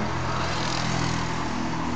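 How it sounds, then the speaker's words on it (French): Steady traffic noise from cars going by outside an open window, a continuous broadband rumble and hiss at moderate level with no talking. "désolé pour le bruit, mais il y a des voitures et j'ai la fenêtre ouverte."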